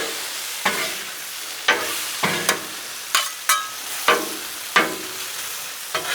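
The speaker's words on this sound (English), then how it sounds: "The bacon's getting done." Bacon fries on a Blackstone griddle with a steady close sizzle, while a spatula scrapes and taps against the flat steel in sharp, irregular strokes about once a second.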